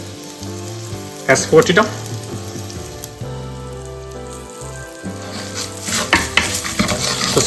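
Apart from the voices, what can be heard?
ginger and curry leaves being stirred and fried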